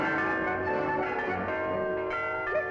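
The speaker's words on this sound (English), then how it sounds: "Listen, girls, the bells." Cartoon bells ring continuously and loudly, a dense sustained clang with layered tones, alone with no talk over it.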